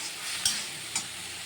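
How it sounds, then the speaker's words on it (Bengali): Yardlong beans fry in a pan while being stirred, with a steady sizzle and two brief scraping clinks of the utensil against the pan. "দেখো কত সুন্দর নাড়াচাড়া আমি যেটা 10 মিনিট ধরে নাড়াচাড়া করলাম"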